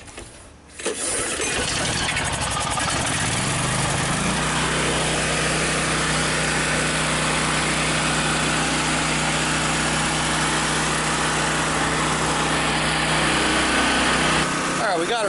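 A portable generator's small engine catches after a brief start attempt, then runs loud, close and steady at a constant buzzing pitch until the end.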